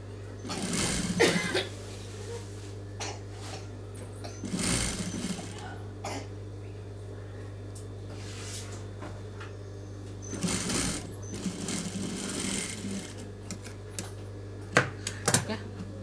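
Sewing machine stitching a blouse in short, close bursts of rapid needle chatter separated by pauses, over a steady low hum, with occasional clicks and a cough.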